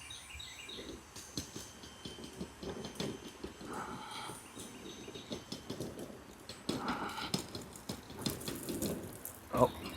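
Water sprays from a garden hose onto a lawn core aerator wheel outdoors, a continuous rushing hiss with splashing surges, fairly quiet and steady throughout.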